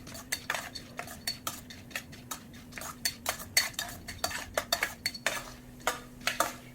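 Toor dal and spices dry-roast in a pan for sambar masala, a utensil scraping and clinking against the metal in quick, irregular strokes throughout, with almost no sizzle.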